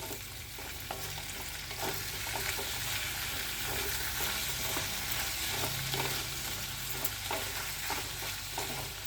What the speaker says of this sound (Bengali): ভালো করে একটু মিক্স করে নিচ্ছি